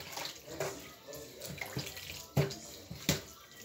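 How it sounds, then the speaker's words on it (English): Water sloshing and splashing in a bowl as kilishi meat is washed by hand, with irregular splashes and a few sharper knocks close by. "Let me remove it from the hot water and use ordinary water to wash it."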